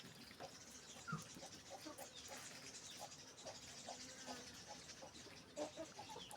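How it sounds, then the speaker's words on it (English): Hens in a rural African village compound at morning feeding, soft clucks scattered through the clip over a steady outdoor background, with a brief louder call and no talking. "These are our hens in our compound."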